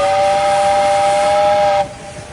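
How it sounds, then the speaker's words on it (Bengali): A toy train on a Darjeeling hill line sounds a loud, sustained steam whistle with a hissing edge. It cuts off after about two seconds, leaving a fainter hiss. "Toy train."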